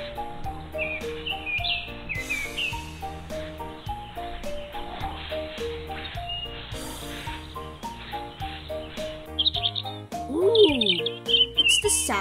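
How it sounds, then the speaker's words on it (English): Birds chirp and tweet over a bouncy musical background, with a burst of quick whistled calls near the end. "it's the sound of birds singing on the trees"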